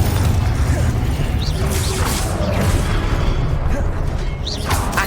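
Confringo blasting spells in the video game Hogwarts Legacy, loud booming blasts and crackling impacts over dense, rumbling combat noise, with a couple of sharp bursts standing out.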